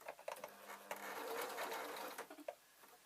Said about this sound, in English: So what I'm doing now is I am sewing up the lining.